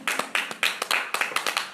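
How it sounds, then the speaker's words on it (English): A small podcast audience claps briefly, a short burst of sharp, irregular hand claps from a few people, close and moderately loud. "Clap it up, guys."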